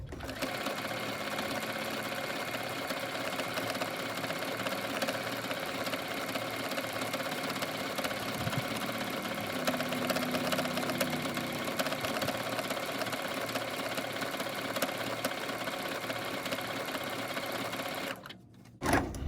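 A sewing machine sews a quilt binding in one long, steady, close run of rapid stitching with a constant motor hum, no talking, and a brief stop and clatter at the very end.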